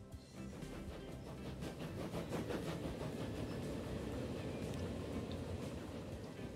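A train rolling along in the simulation game Transport Fever 2, a soft, steady rumble with faint rhythmic clatter, heard alone at low volume.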